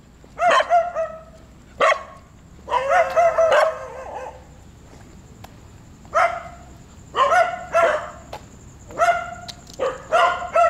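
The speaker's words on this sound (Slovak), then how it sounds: "Veľa psov." Several dogs bark in loud, close bursts of overlapping barks and yips, repeated in clusters with short pauses, outdoors near an unfinished skyscraper in Pattaya, Thailand.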